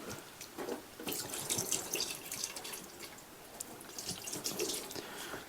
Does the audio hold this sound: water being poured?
yes